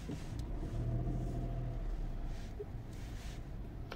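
A manual 2023 Ford Puma 1.0 125cv drives with a steady, loud low engine rumble and road noise, a faint rising rev tone running underneath.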